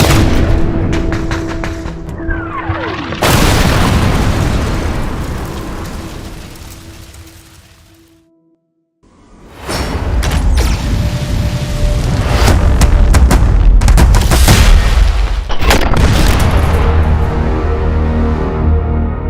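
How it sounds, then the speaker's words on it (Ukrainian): A grenade explodes during close combat in the defence of Avdiivka, amid heavy fire with tanks and Bradley vehicles nearby; loud, repeated booming blasts and bursts of gunfire with a brief lull in the middle. "Граната!"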